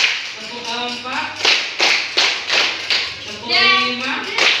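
A class of children performs counted clapping patterns, sharp hand claps falling in growing groups of one, two, three and four, alternating with children chanting the counts aloud in a classroom.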